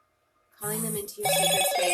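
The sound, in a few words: telephone ringing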